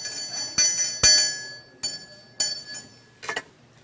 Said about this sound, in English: The little tinkle bell is calling us to work.